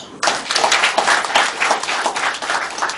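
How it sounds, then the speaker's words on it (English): A round of applause for course participants at the closing ceremony of a train-the-trainer course on entrepreneurship, breaking out after a brief quiet start and then holding as dense, steady clapping from a crowd. "Please, a round of applause for them."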